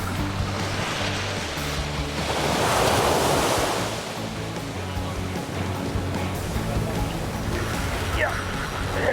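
Ocean waves break against a rocky point on a fishing shore, a loud continuous surf roar that swells into a bigger crash early on, then settles into steady wash with wind buffeting and a low hum underneath.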